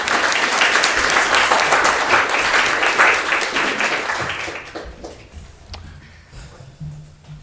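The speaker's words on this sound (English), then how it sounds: "Another round of applause for our Lewiston leaders." Dense applause fills a city council chamber in Lewiston, loud and steady for about four seconds and then thinning out into scattered claps and quiet room noise.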